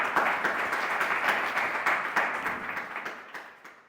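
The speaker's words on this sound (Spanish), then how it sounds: "un aplauso a Matías." A crowd applauds a guest introduced at a talk on AI in Málaga: dense, steady clapping from many hands that slowly fades over about four seconds, with no voices heard.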